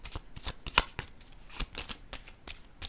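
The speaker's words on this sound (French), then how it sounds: "Bon, je vais déposer une carte ici sur l'ombre à l'envers." Tarot cards make quick, soft slapping and rustling sounds against a table. Several light, rapid snaps follow one another closely at a near distance.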